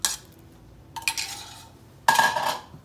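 Cheesecake crust crumbs tip into a metal pan, with clinks and scraping of a utensil against the pan in two or three close bursts separated by brief pauses.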